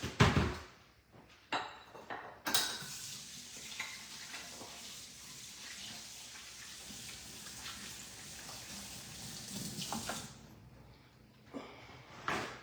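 Tap water runs into a kitchen sink while turkey wings are washed for Sunday dinner prep: a steady, close hiss and rush lasting several seconds, with brief clatters before and after.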